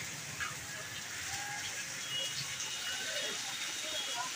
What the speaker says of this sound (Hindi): गाइस बारिश बहुत तगड़ी हो रही है